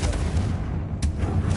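Confringo blasting spell from Hogwarts Legacy bursts in a dull boom with a short crackling tail, followed by a second sharp impact, moderately loud against low game rumble.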